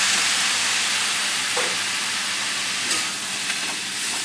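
Water splashed into a hot pan of flattened-rice pulao sets off a steady bright hiss and sizzle with a few sharp spits, close and continuous, no one speaking.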